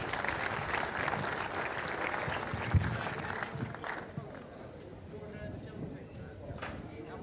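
Spectators applaud after the men's match in a Sels and Van den Honert versus Arends and Lootsma game, a moderate round of clapping that fades after a few seconds into quieter room noise with scattered knocks.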